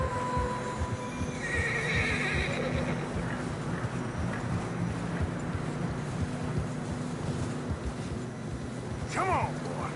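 Horses in the snowy mountains of the Red Dead Redemption 2 video game whinny loudly and plod along with steady hoof clops, set against constant wind, with voices speaking faintly beneath.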